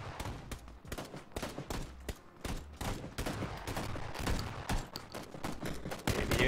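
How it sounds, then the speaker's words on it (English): Dense, continuous gunfire crackles through a Battlegrounds match, rapid volleys of shots overlapping into a steady fusillade with bursts of automatic fire at a moderate distance. "Stop shooting in the background, you bunch of mugs."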